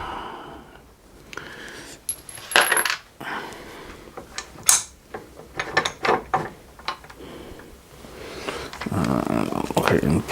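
A Craftsman drill press mechanism being raised gives a string of metallic clicks, clunks and ratcheting rattles at close range, with someone talking between the sounds.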